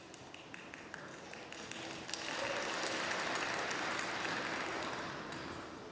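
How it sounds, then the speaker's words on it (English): Applause breaks out at a snooker venue for a player's victory on the next table, starting after scattered taps and swelling into steady, moderately distant clapping that holds for several seconds. "the applause for Trump, who's completed victory, and a very popular one next door on table 2"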